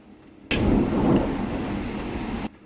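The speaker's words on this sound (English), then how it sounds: "That's thunder." Thunder rumbles loud and close during a rainstorm in Southern California, a sustained roar over steady rain that cuts off after about two seconds.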